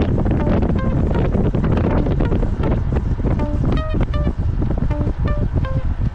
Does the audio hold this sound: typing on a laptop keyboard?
no